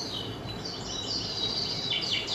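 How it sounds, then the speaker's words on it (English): Several birds chirp and trill in high, quick bursts over a soft outdoor background hiss. "the birds are chirping at a tree or a forest"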